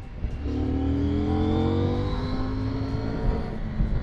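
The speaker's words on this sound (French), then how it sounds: "Oh là là, et ça accélère, mais ça accélère correctement" A loud CFMoto 800MT motorcycle engine revs up steadily, its rising pitch climbing as it accelerates, close and continuous for several seconds.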